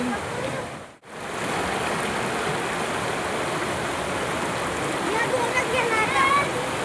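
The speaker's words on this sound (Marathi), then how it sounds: "पाण्याचा प्रवाह आहे आणि पाणी पण एकदम ताजे जातं स्वच्छ" Fresh, clean stream water flows steadily nearby in a village setting, a continuous broadband rushing wash with one brief dropout, and a voice is faintly heard near the end.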